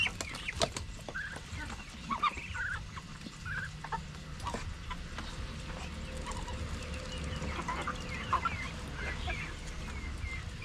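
Chickens, roosters and hens cluck in a backyard, a scattering of close, irregular clucks and short calls over a quiet rustling background, with no talking.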